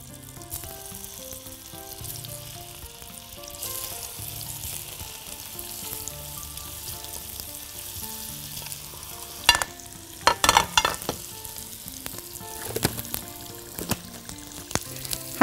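Chicken kofta stuffed with cheese frying in a pan gives a steady, soft sizzle throughout, with sharper crackles and spits near the end as the pieces are moved around.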